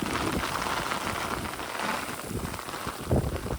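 Heavy rain pours down while a stormy wind gusts at an outdoor fishing spot, making a dense, steady wash of hiss and rumble with a sharper gust near the end.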